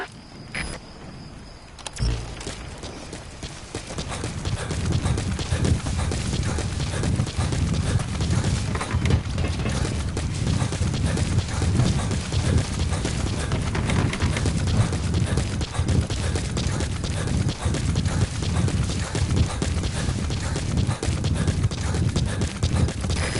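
Horse hooves clip-clopping steadily in Metal Gear Solid V: The Phantom Pain, a continuous close rhythmic gait over open ground that starts after a quiet opening moment and runs on throughout.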